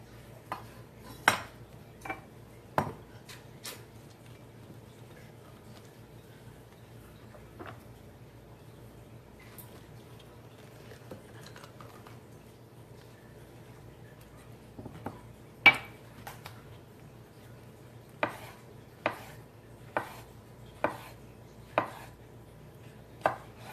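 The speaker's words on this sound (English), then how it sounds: "You can just watch me cut mangoes" Mangoes being sliced thin with a knife on a board, sparse sharp taps and clicks spaced irregularly, with a quick run of evenly spaced cuts toward the end against a quiet background hum.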